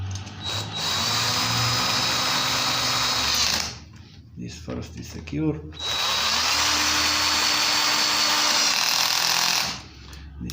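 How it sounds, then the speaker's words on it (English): Cordless drill runs in two sustained bursts of about four seconds each, loud and close, with a steady high whine and a brief pause between them where someone speaks, during work on an MTD chainsaw. "Here is our cordless drill."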